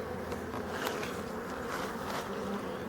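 Honeybees forage around hives in mid October, their steady, close buzzing forming a continuous hum with no voices present.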